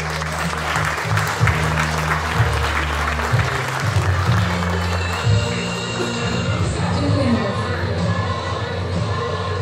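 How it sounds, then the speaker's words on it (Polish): Sustained applause mixed with crowd noise fills a sports awards gala hall, with steady low music playing underneath and some voices throughout. "należą się ogromne brawa raz jeszcze"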